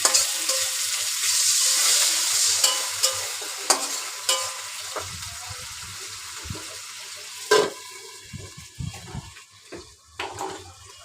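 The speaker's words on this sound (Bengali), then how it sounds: "আবারও একটু কষায় নিব মাছটা" Hilsa fish head sizzles as it is sautéed in a pan, with a steady frying hiss and repeated scraping strokes of a spatula stirring it. The sounds are close and clear, with no talk.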